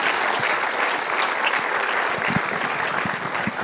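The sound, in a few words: applause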